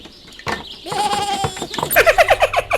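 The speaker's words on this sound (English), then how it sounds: "Let's rescue the poor goat." A goat bleats in a rapid series of loud, wavering cries close by, with a burst of other voices and noise before the calls.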